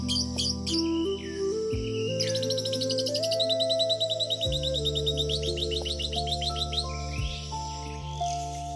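Lovebird calls ring out as a run of rapid, high chirps and trilling tweets, clear and fairly close, over a steady musical backdrop with no voices.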